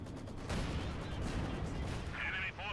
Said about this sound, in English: More mortar fire here from FK9DD.